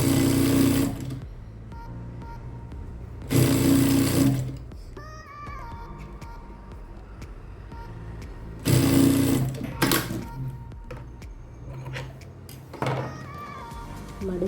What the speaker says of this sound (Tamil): அதே 1/4 இன்ச்சில் ஒரு தையல் போடுறோம்.